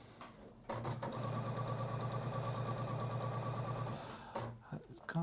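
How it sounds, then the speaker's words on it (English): A sewing machine stitching fabric in a sewing demonstration, running steadily with a fast even rattle for a few seconds before stopping, then a few brief clicks. "And then we're going to sew all the way down."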